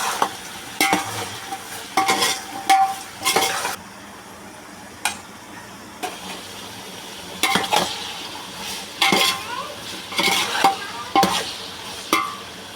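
Brinjal with salt and curry leaves being stirred in a pan: bursts of loud scraping and clinking spoon strokes separated by quiet gaps, over a faint sizzle, close up.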